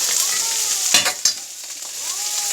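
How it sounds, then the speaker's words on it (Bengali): Food sizzles steadily in a little hot oil in a home kitchen, with a continuous bright crackle and a couple of sharp stirring scrapes near the middle, close and alone without talk. "একটু সামান্য তেল দিয়ে একটু ভেজে দিই"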